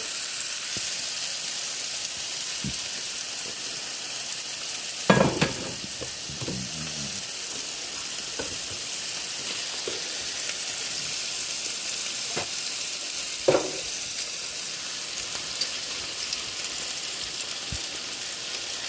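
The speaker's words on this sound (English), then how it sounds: "So we're going to continue to let that cook, the ground meat cook." Ground meat frying in a pan gives a steady, even sizzle throughout, broken by a few brief knocks and scrapes as it is stirred.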